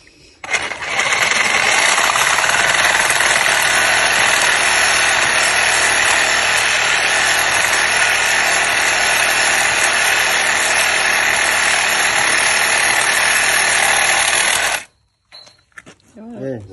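Milwaukee reciprocating saw cutting during a home renovation, a loud, steady buzzing roar held for about fourteen seconds before cutting out abruptly, followed by quiet talk.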